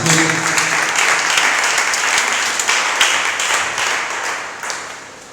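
A church congregation breaks into loud, sustained applause, a dense wash of many hands clapping together up close, gradually thinning slightly toward the end.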